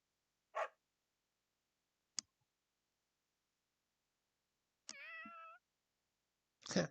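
A cat meows in Fire Emblem Three Houses, heard as several short separate calls with gaps between them, one longer drawn-out tonal meow in the middle, and nobody talking.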